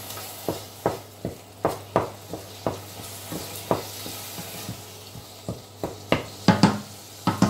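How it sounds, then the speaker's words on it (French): Garlic and liver tapenade ingredients sizzle gently in a pan on low heat while a spoon stirs them, a soft frying hiss broken by regular scraping strokes roughly every half second, close and clear. "on laisse à feu doux, et de temps en temps on remue jusqu'à ce que tous les ingrédients se mélangent bien comme il faut"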